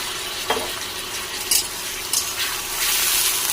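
Chopped carrots, beans and capsicum frying in a pan, with a steady close sizzle and a few brief stirring clatters, the hiss swelling louder toward the end.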